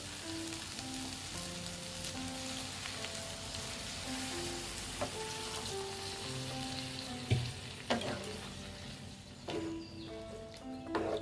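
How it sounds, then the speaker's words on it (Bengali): Soybean and egg curry sizzling steadily in a pan as a little water goes in, bringing a louder hiss and bubbling burst partway through, close by with no talk. "এবার আমি এখানে জল দিয়ে দিচ্ছি"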